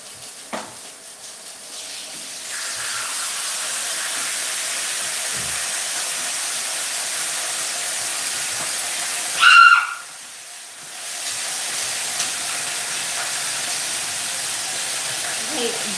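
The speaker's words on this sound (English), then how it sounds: "Let me put a little bit of water in here." Water poured into a hot lidded pan of calabacitas sets off a steady steaming hiss that runs for many seconds, with a brief louder sizzle midway and a voice speaking at times.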